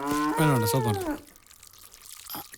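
A single close, drawn-out cow moo lasting about a second, followed by quiet background with faint rustling.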